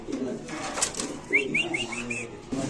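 Pigeons at a pigeon market, including blue bar Danish birds, with low cooing, a quick run of short calls and brief wing flutters amid background murmur.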